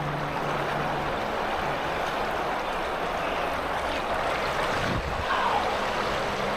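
Fast-moving floodwater after heavy rain rushes past in a continuous broadband roar, close and steady, with no voices.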